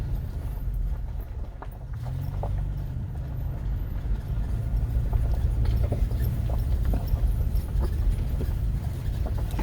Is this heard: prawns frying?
no